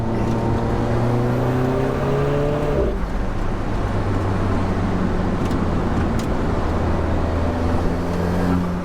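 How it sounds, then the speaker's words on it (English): Alfa Romeo 4C Track Edition sports car engine gurgling at low revs, with a pitch that drops after a few seconds before holding a steady, close rumble with no talking. "Listen to the engine just gurgle."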